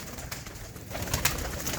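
Pigeons, including a red-eyed female desi pigeon, coo softly and repeatedly at close range amid low background rustle.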